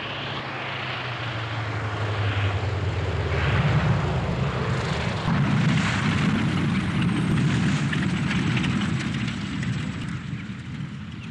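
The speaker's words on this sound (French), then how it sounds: "un avion de l'RAF à décollage court, un Lysander, se pose dans un pré" An RAF Lysander short-takeoff propeller plane drones steadily and loudly, its engine swelling a little midway and then holding a rough, even roar with no voices.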